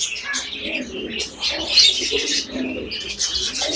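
A grey cockatiel chirps in a busy run of bright, high tweets and calls. Other cage birds join in, with faint cooing and occasional wing flutters.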